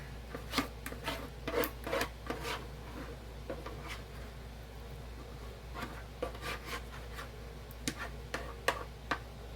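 Spoon scraping homemade cranberry sauce into a glass canning jar, a series of short, faint scrapes and taps in irregular bursts with a low hum behind them.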